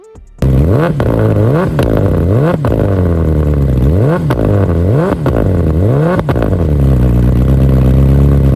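A 2020 BMW S1000RR M-Package sport motorcycle engine revs repeatedly in sharp bursts, pitch climbing and dropping about once a second, loud and close, with no talking.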